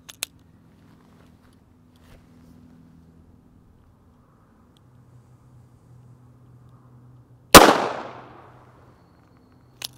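A single sharp gunshot from a .22 LR Mini-Mag 36 grain hollow point fired from a 3-inch barrel into ballistics gel. One loud crack rings out with a quickly fading tail after a quiet lead-in with a faint low hum, and a tiny click follows near the end.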